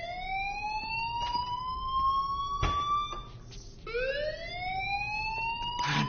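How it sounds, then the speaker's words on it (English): A fire alarm in the video game Life is Strange wails with rising, siren-like sweeping tones that restart once, ringing loud and steady with brief sharp clatters in between. "Bang, fire alarm."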